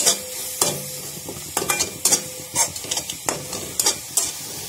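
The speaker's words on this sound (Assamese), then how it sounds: "গৰম পানী দি মছলাখিনি মই 2 মিনিটমান সময় এনেদৰে ভাজি থাকিলোঁ" Masala with hot water stirring and frying in a pan for a tura fish curry, soft steady sizzle broken by repeated sharp scrapes and clacks of a spoon against the pan, close and without talk.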